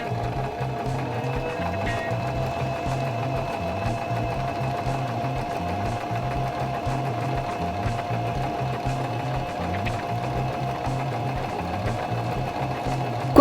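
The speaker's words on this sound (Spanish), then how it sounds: "Cuando ya estés segura de que la puntada está alineada," A Singer mechanical sewing machine steadily stitches fabric, its needle and motor running in a fast, even rhythmic whir that continues unbroken and close up.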